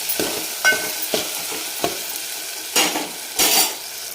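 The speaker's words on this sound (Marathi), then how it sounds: "तर आता हे छान परतून घ्यायचं" Spices and turmeric sautéing for dal in a pan, a soft continuous sizzle broken by about six sharp scraping stirs of a metal spoon, close and fairly loud, with no voices.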